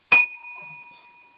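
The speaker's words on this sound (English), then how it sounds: "And let the bells toll." A single bell strikes sharply once, then a clear ringing tone sustains and slowly fades in a quiet indoor space during a Thanksgiving gathering.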